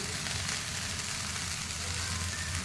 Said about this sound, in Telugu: ఒక సెకండ్ ఆయిల్లో వేయాక కొంచెం కరివేపాకు, ఉల్లిపాయ ముక్కలు